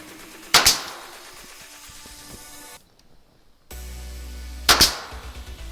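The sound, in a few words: nail gun shots fastening a wall handrail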